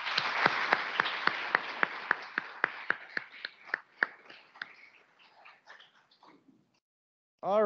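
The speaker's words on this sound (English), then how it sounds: "please join me in a round of applause in gratitude for Connie's service" A small audience at an annual meeting claps for several seconds: a handful of sharp, distinct claps that thin out and fade to silence, followed by a brief sound at the very end.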